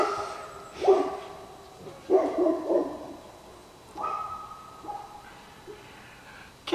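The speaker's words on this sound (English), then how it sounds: "My neighbor dogs are visiting." Neighbor's dogs bark outdoors at a distance, a few scattered single and double barks spaced across the quiet background.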